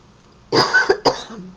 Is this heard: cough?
yes